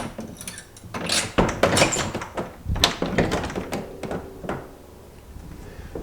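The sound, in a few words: door being closed and opened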